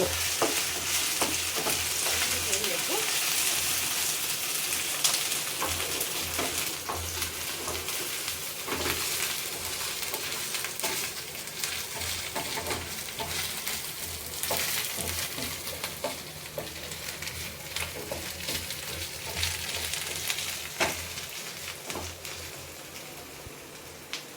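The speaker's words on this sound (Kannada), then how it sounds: "ಇದು ಫ್ರೈ ಆಗಬೇಕ್ರಿ ಹಸಿ ಈರುಳ್ಳಿ ಎಲ್ಲ ಚೆನ್ನಾಗಿ" Raw onions frying in a pan for soya gravy give a continuous crackling sizzle, steady and close, with frequent small pops and occasional scraping throughout.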